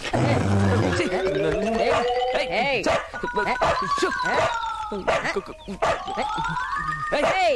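A dog in a Telugu film scene barks and howls repeatedly, the calls rising and falling in pitch, loud and close, mixed with people talking and background music.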